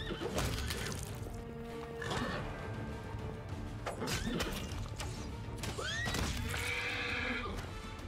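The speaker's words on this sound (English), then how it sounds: "A horse? A horse!" A horse neighs and whinnies repeatedly in Pathfinder: Wrath of the Righteous, loud rising and falling calls mixed with hoof clops and scattered clattering game effects.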